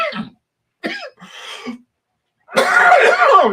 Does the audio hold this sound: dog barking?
no